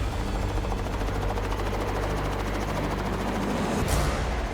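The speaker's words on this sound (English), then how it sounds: "Now, the helicopter needs to come back for the co-pilot" A helicopter hovers over a lake during a pike-fishing trip, its loud, continuous rotor thrum and engine roar filling everything with steady pulsing chop and no voices present.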